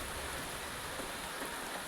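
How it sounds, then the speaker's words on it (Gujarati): Constant rushing hiss of rain with wind blowing through it, even and unbroken from start to finish. "હવે પવન ને વરસાદ ચાલુ થઈ ગયો છે"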